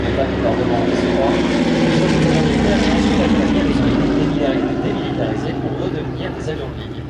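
A Douglas C-47 (DC-3) propeller airplane roars past at an air show, its engine drone loud and steady throughout, with a faint voice underneath.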